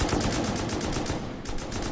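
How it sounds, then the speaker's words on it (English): Rapid automatic MP5 fire in the video game Rust, a steady burst of closely spaced shots rattling continuously for about two seconds, loud and up front with no talking. "I shot a whole clip of an MP5 in it"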